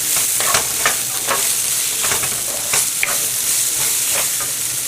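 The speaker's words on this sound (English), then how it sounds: "Sambar powder fries in the oil and gives a very different and nice taste." Sambar powder sizzles and fries in hot oil with onion and tomato, a steady broadband crackle punctuated by repeated scraping strokes of a spoon stirring the pan, close and fairly loud with no voices.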